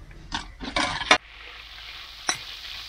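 Asparagus pieces frying with hot chili oil in a pan inside a camper van: a few short scraping stirs and sizzling bursts over a soft, steady hiss, with one last stir near the end.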